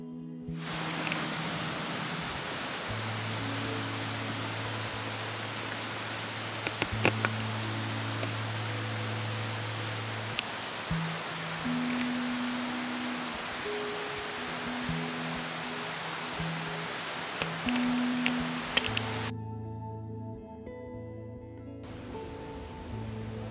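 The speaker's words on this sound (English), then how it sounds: "focusing on the sounds of the wind and bamboo trees was so comforting and relaxing" A steady, broad rushing hiss of wind through a bamboo forest near Shuzenji, Japan, continuous and soft, with occasional faint rustles and creaks.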